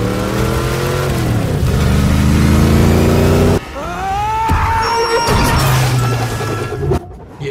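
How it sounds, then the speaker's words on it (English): A car in The Batman movie revs hard and roars through concrete in a loud chase, engine pitch climbing and dropping amid crashing impacts, debris bursts and a sudden cut to quieter clatter. "Oh, look at that, just smashing right through the concrete."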